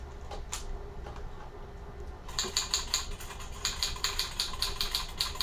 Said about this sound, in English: And stop that goddamn typewriter!